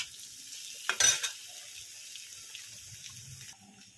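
Potato bhaji being stirred and mixed with salt in a pan, a soft scraping and sloshing that peaks in a brief louder burst near the start, then settles into quiet intermittent mixing noises without talk.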